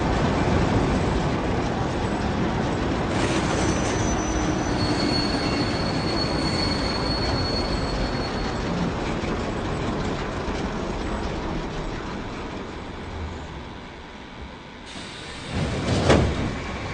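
A video game train in Process (PC) rumbles steadily along the rails, then slows with rising metallic wheel squeals and a final screech as it brakes to a stop; loud, no voices.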